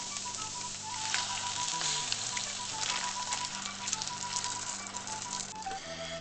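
Turkey sizzles and fries in a thin pan set over lowered heat, a steady loud crackling hiss that runs unbroken from start to finish with no talking.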